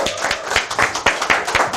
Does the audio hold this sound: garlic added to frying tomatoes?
no